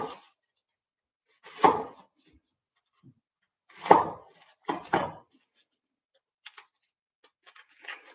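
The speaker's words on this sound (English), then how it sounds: "So the first thing I'm going to do is I'm going to cut up this onion." Kitchen knife julienning an onion on a cutting board: a handful of sparse, crisp cuts spaced a second or more apart, quiet and close, with near silence between strokes and no talking.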